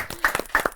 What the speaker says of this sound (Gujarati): જોરદાર તાળીઓ સાથે એશાનું સ્વાગત કરીએ.